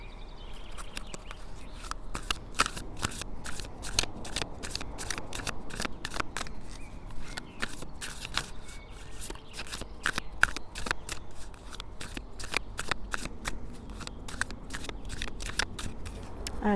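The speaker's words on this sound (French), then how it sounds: "je vais tirer une carte du paquet avant qu'elle tombe" Tarot cards are shuffled and drawn from the deck, giving a close, quiet run of crisp riffling slaps and flicks that repeat in an uneven rhythm against faint background hiss.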